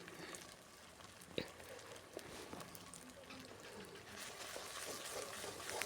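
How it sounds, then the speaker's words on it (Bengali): Duck meat being stirred with ground spice paste and turmeric in a pan gives a steady low sizzle with scraping and stirring noises, a sharp clank near the start, and faint activity throughout. "হলুদ গুঁড়ো দিয়ে আবার ভালোভাবে নেড়ে চেড়ে দিচ্ছি"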